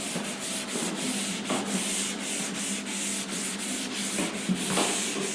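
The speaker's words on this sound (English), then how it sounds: "I'll rub this for you because there won't be enough space otherwise to write down." A board being rubbed clean of writing, heard as steady rhythmic scrubbing strokes, fairly close and loud, repeating back and forth without pause and with no voices.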